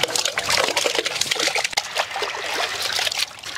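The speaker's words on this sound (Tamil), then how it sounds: "சிக்கன் நல்லா கழுவி எடுத்து வந்தாச்சு" Raw chicken washed by hand in water: continuous splashing and sloshing, with trickles and dribbles as pieces are rubbed and lifted, close and fairly loud with no talking.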